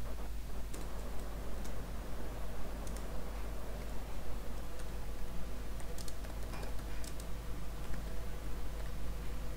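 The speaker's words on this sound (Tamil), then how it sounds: "இந்த ஃபைலை ஓப்பன் பண்ணி இன்னும் ரெண்டு லைன் டைப் பண்ணி வைப்போம்" Keys clatter in a steady stream on a computer keyboard as lines are typed into a Python file, a continuous close tapping over a low constant hum, with no talking.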